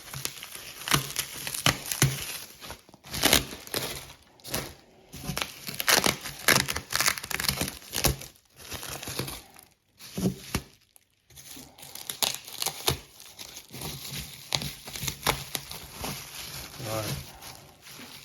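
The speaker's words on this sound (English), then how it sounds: "Let me try and rip this packaging off" Packaging being torn and crinkled off a new guitar, with repeated ripping, crumpling bursts and brief pauses, close up and fairly loud, while a person talks over much of it.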